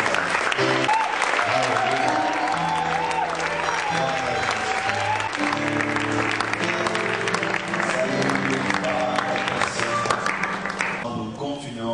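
A congregation's applause acclaiming the Lord during a church service: dense, steady clapping over loud music with sustained tones, continuous for the whole stretch without a break.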